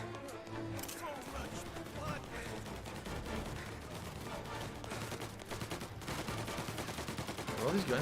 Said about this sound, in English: All these gunshots I'm hearing.